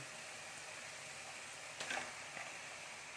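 Chicken pieces drop into a pan of yogurt and spice mixture for chicken kosa, raising a steady low sizzle with a brief louder hiss and clatter partway through, close and fairly quiet, no talking.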